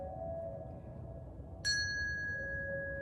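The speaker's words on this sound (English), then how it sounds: "Just simply ringing the bell, listening to the tones as they dissipate" A bell struck once, ringing with a clear, bright tone that lingers and slowly fades over a faint background hum.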